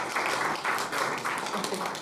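An audience claps for a doctor introduced at a Mexican health-policy talk, dense continuous applause with no speech over it.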